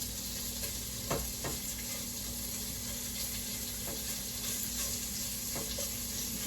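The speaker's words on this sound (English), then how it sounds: "we're going to give the bacon just a couple of minutes to brown and get crispy and tasty" Bacon frying in a pan while it browns and crisps, a steady close sizzle with a few soft clicks and taps, no talking.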